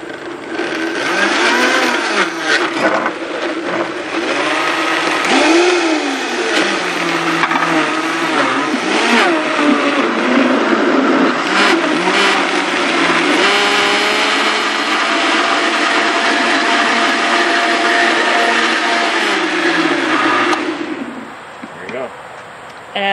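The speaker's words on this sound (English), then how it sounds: "all we're going to do is blend these up. It's going to get really loud here for a minute" A loud blender whirs steadily for about twenty seconds blending tomatoes, its motor pitch shifting as contents churn, then cuts off near the end.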